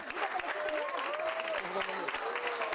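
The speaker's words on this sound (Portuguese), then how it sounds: "Na alta, ela foi aplaudida." Hospital staff applaud a patient being discharged after 44 days, a steady patter of clapping from a small group, moderately loud, with voices talking over it.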